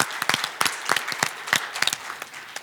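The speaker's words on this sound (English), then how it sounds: "big round of applause to all you guys" Audience applause at a palliative care conference session, a steady patter of many hands clapping in a room, moderately loud and continuous for a few seconds with no talking over it.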